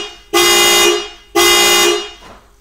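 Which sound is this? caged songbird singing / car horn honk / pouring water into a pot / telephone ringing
car horn honk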